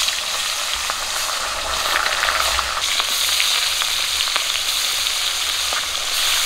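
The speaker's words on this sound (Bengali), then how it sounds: "আর মাছগুলো ভেজে নেই।" Small river bata fish frying in hot oil, a loud, dense, continuous sizzle close up, with faint crackles and pops and no talking.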